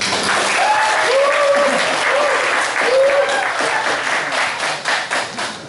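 An indoor crowd at a political support rally in a city hall book café claps loudly and continuously, close and dense, with voices calling out over the applause before it tapers off.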